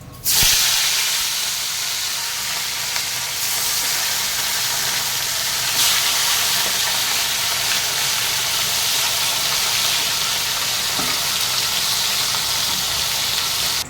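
Parshe fish fry in hot oil in a wok, a loud continuous hissing sizzle close up with a sharp burst at the start as the fish go in, steady for the rest, no talk.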